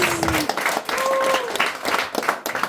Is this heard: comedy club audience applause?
yes